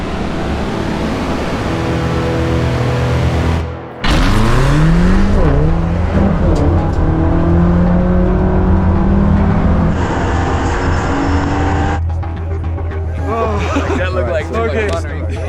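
A BMW XM race car runs the Pikes Peak hill climb, its engine droning steadily and rising in pitch through the gears, with shifts and revving over a continuous loud roar and background chatter.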